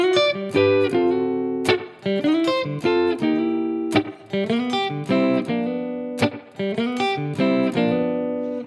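Electric blues guitar plays a run of picked chords and single notes with sharp attacks, a lively shuffling rhythm, played alone with no talking.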